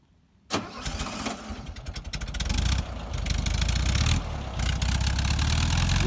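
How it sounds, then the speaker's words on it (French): An old Volkswagen Beetle's air-cooled flat-four engine cranks and catches, then settles into a loud, steady, close-up idle with a rough mechanical rumble that continues to the end. "l'ami a envie d'entendre se ronronner ce vieux flat 4."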